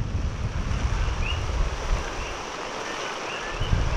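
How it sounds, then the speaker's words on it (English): Strong tropical-storm wind from Hurricane Lane on Hawaii's Big Island, a steady broadband roar buffeting the microphone with low rumbling gusts, continuous and fairly loud with no voices. "Yeah, it's a pretty strong wind."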